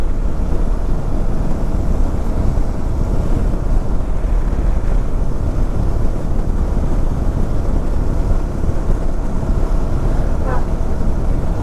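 Strong hot wind roars steadily against the microphone while riding a motorcycle, a constant loud rushing with a faint voice buried beneath it.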